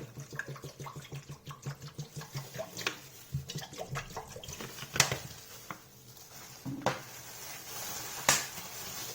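Half a liter of water poured into a bowl of salt for brining Korean cabbage, a close, uneven splashing patter with brief louder sloshes, alone with no talk.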